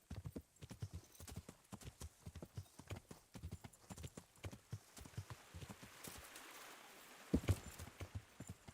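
Quick rhythmic clip-clop of horse hooves trotting steadily in the video game Kingdom Come: Deliverance, close and clear, with a brief snort near the end.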